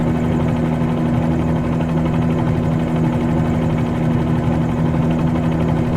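Steady droning engine and rotor of a Bell 47G helicopter in flight in Microsoft Flight Simulator 2020, a constant loud hum with a strong low tonal buzz and no break.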